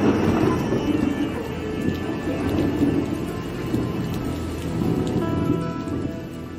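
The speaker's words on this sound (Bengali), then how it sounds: "সেই বৃষ্টি আবার শুরু হলো" Steady rain pouring down with a low rumble of thunder running underneath, a dense continuous hiss at fairly even loudness throughout, with no voices.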